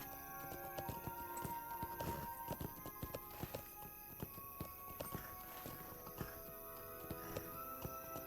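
Horse hooves clip-clop steadily on hard ground in the Lord of the Rings Online video game, a brisk, evenly paced run of clear thuds carrying on throughout at moderate volume.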